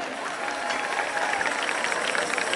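Applause from an audience at a Maa Khodiyar devotional festival held at an ashram, a steady wash of many hands clapping throughout at moderate volume.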